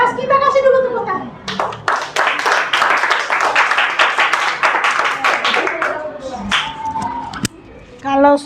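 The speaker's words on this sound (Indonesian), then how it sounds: "Kita kasih dulu tepuk tangan." A group of children in a classroom claps and applauds in a burst of several seconds, with young voices speaking before and after the clapping.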